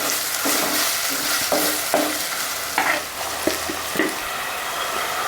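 Tomato pieces frying in a pan after ginger-garlic paste and a little turmeric for a dried fish and egg curry, a dense bright sizzle with repeated wet scraping stirs, close and steady, no talking.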